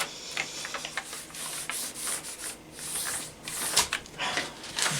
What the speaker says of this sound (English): My rubbing finger all the way around.